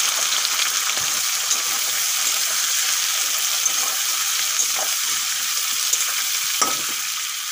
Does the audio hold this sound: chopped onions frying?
yes